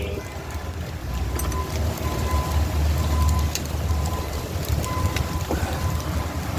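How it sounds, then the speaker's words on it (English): Steady rain patters and hisses throughout, a continuous close wash of drops on a surface, with a low rumble underneath and occasional sharper ticks. "Yay, the rain."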